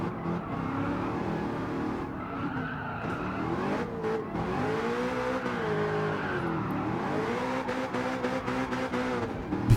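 A new Corvette driven sideways, its engine revving and rising through the gears with swooping pitch while tires squeal under drifting, loud and continuous with no talking.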